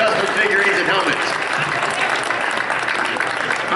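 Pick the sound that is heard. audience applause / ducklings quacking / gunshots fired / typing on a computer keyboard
audience applause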